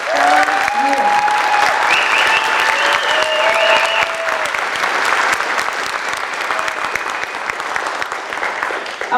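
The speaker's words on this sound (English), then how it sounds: "If you can please give these guys a round of applause for 7 years." Sustained audience applause fills a high school band's spring concert hall, a dense, steady wash of many hands clapping at once, loud and continuous throughout with a few whistles and cheers.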